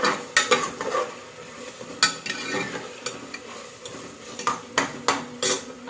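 Onion fries in a pan while a spoon stirs it, giving a soft, steady sizzle broken by sharp metallic scrapes and clinks against the pan, close by and with no talking.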